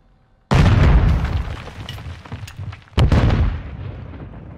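Two heavy grenade blasts in a Modern Warfare 2 Search and Destroy match, each a sudden loud boom with a long rumbling decay, the second arriving about two and a half seconds after the first.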